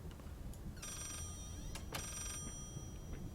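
In the horror game Layers of Fear, an old telephone bell rings faintly in two short bursts, a metallic trill over a low ambient hum.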